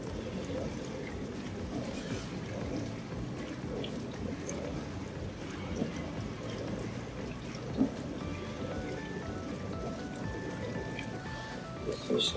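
An imported Miele dishwasher runs quietly through its wash cycle, giving off a steady, low, muffled swish of circulating water with faint trickling over a constant hum.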